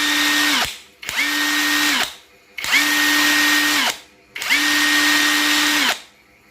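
A PRC cordless impact wrench spins freely in four long bursts, each a smooth steady whine that winds up sharply and then coasts down, with short quiet gaps between runs; loud and close, with no talking.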